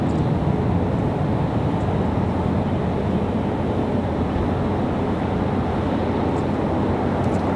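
Arriving airliner at Raleigh-Durham International Airport, a steady broadband jet roar heard from a distance, constant and unbroken throughout with no voices.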